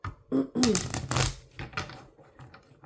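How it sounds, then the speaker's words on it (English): Quiet riffling and flicking of playing cards being shuffled close by, in short bursts, with a voice murmuring briefly alongside. "One more shuffle. I'm trying to be quiet with the cards too, so they're not too loud for the mic."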